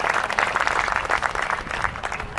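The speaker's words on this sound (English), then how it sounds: "So let's have a round of applause for Sherry." A dense, steady wash of applause from a crowd at a Hiroshima Day protest at Livermore Lab, continuous and fairly loud throughout with no voices standing out.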